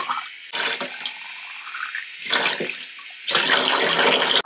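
Tap water running into a container to mix an art supply solution, three bursts of splashing flow separated by short pauses, close and fairly loud.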